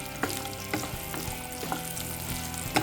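Cashews and small coconut pieces frying in ghee in a pan, a steady close sizzle with soft crackles and a few sharper pops, no voices.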